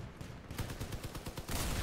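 Rapid machine gun fire from armored vehicles in the combat game Crossout, a dense burst of fast repeating shots that swells louder toward the end, with no talking over it.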